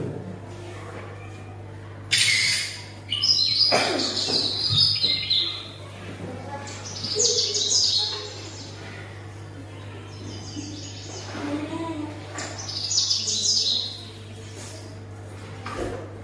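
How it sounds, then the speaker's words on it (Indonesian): Bright bird chirps come in short bursts over a steady low hum, with a few pauses between calls. "Burung."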